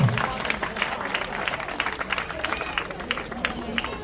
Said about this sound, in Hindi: जोरदार तालियों से अभिनंदन और स्वागत अंश के लिए।